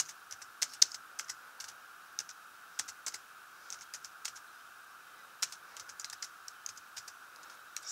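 Fingers tap on a computer keyboard, irregular light clicks spread across several seconds, close but quiet over a faint steady hum, no talking.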